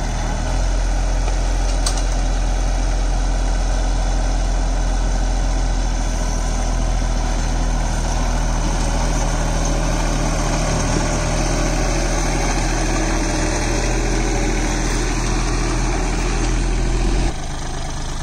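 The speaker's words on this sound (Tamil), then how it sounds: "கேப்டனில் பார்த்தீங்கன்னா 8th generation mini tractor 283 29 HP 3 cylinder Mitsubishi engine வந்து இதில் கொடுத்துருக்காங்க" A Captain 283 4WD mini tractor with a 29 HP three-cylinder Mitsubishi engine idles nearby, a loud steady low throb holding without pause for about seventeen seconds before cutting off abruptly.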